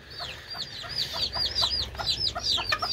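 Ispenç chickens and chicks in a coop give repeated high chirping peeps and clucks close by, a busy overlapping chatter with no voices.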